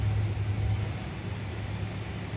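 A Fokker 28 regional jet airliner engine in a flight simulator produces a steady, loud droning roar with a deep hum underneath, constant and unbroken.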